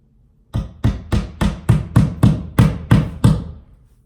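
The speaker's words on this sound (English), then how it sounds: "So now I'm just going to put the nail in." A hammer driving a nail into a living room wall with nine sharp, evenly spaced blows, close and loud, in a quiet indoor room.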